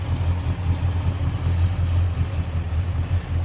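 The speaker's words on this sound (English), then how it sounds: "Listen to that run. Nice looking engine bay, great sounding engine." Engine of a restored 1966 Buick Skylark GS two-door hardtop with a 401 V8 running at idle, a steady low, loud, close rumble with an even pulsing throb.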